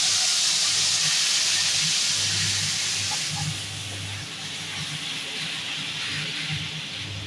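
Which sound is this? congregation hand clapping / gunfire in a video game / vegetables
vegetables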